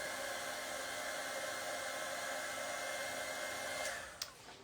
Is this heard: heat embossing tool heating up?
yes